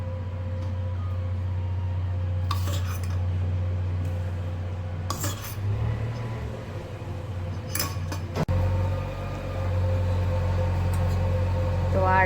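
A spoon scoops fresh cream into a bowl of eggless-flour cake batter in a home kitchen, giving a few sharp metallic clinks against the bowl over a steady low appliance hum.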